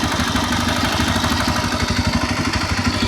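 A new Pulsar 125 motorcycle engine idles close up, a loud, steady mid-pitched thrum with a fast, even pulsing beat and light mechanical clatter, with no voices.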